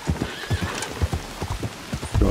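A black horse in Red Dead Redemption 2 trots with steady, close clip-clop hoofbeats, and a loud neigh and whinny rings out over the footfalls.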